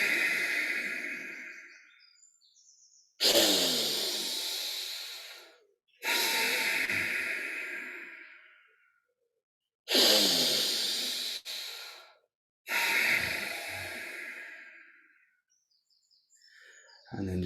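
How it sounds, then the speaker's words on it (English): Bhastrika pranayama breathing comes in four forceful rounds of loud, rushing breaths, each lasting a couple of seconds and separated by near silence, close and alone without speech. "Take a normal exhalation and then a round of bhastrika."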